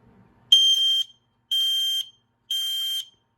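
X-Sense XP04-S smoke alarm piezo siren under test gives three loud, shrill, identical beeps, each about half a second long and evenly spaced, sounding alone after a faint brief voice.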